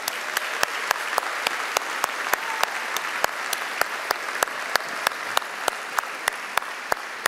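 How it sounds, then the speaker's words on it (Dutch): Sustained applause from a crowd, steady clapping with a few sharper individual claps standing out, no voices. "Dus applaus voor Daan en Bokken graag."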